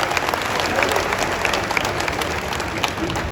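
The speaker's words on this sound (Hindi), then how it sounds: "एक बार दोनों हाथ उठाकर जोरदार ताली के साथ स्वागत करिएगा।" Dense, steady applause from a live audience at a Hindi comic poetry gathering (hasya kavi sammelan), sustained and close throughout with no break.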